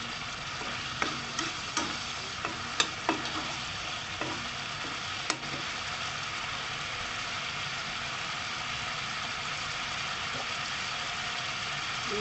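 Spice paste for fish pindang sizzles steadily in a hot pan while a utensil scrapes and taps in a few quick strokes early on, then frying continues alone.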